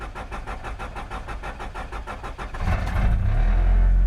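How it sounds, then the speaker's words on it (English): A car engine with a newly replaced pump, under no-start diagnosis, cranks with a steady rapid chug for a couple of seconds, then catches and settles into a loud, continuous running roar. "So now we have the pump in. All right, so now we're gonna crank it up"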